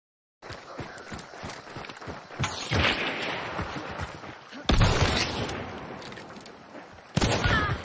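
Gunfire in Hunt: Showdown, several bursts of shots breaking over a dense rumble of game noise and hoofbeat-like footsteps, with the loudest blasts near the middle and at the end.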